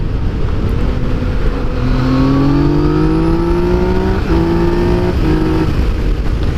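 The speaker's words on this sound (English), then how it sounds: "The stock exhaust is loud, not obnoxious, and you can hear the throatiness and the torquiness of the engine." A Yamaha MT/FZ-09 motorcycle with stock exhaust revs up steadily, its engine note climbing in pitch over several seconds with a brief dip and a second pull, loud and close with no talk.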